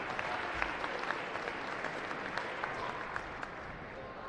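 Applause in a gym for a 7th grade boys basketball team at a Joplin vs Republic event, a steady crowd clapping with some sharper individual claps standing out, moderately distant and continuous without speech.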